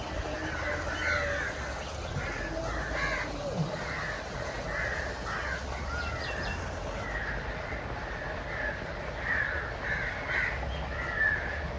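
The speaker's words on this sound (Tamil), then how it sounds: "காக்காங்க எல்லாம் வந்து குளிச்சிக்கிறதுக்கு வந்துக்கிறாங்க." Several crows caw repeatedly at close range near water, their harsh calls overlapping against a steady outdoor background hum.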